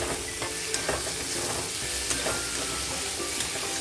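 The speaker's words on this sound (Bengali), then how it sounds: "লঙ্কা গুঁড়ো আর টমেটোটা দিয়ে ভালোভাবে কষিয়ে নিয়েছি" Chilli powder and chopped tomato fry in a pan with a dense, steady sizzle, while a spoon stirs and scrapes through the mixture in quick, irregular clicks close by.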